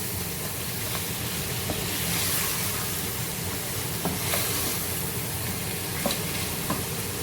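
Kashmiri red chili powder is fried in a pan for a Lahori aloo gosht curry base. A constant close sizzle carries a few soft clicks and crackles, with no one talking.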